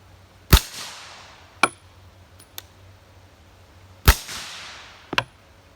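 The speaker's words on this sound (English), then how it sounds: "as you can tell, it does get much quieter when you're using subsonic ammunition" Suppressed hunting rifle firing subsonic ammunition outdoors: a few sharp, fairly subdued cracks spaced seconds apart, each with a short decaying tail, plus faint clicks and a low steady hum between shots.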